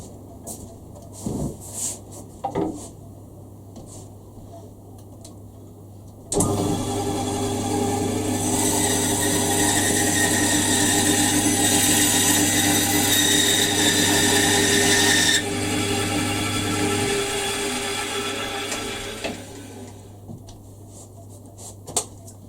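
Power tool cutting off the wooden heel block of a guitar neck, a loud steady whining buzz lasting about nine seconds, then tapering off, with quiet handling noises before and after.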